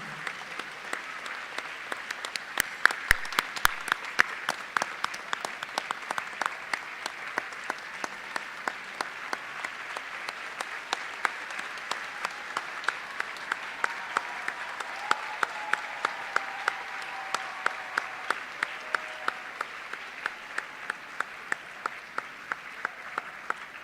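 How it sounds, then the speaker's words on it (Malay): At a university convocation ceremony, a large hall of graduates and guests claps for their families in long, sustained applause, a steady, distant-sounding roar of hands punctuated by sharper nearby claps. "Berikan tepukan gemuruh untuk ayah, ibu serta keluarga anda yang hadir pada hari ini."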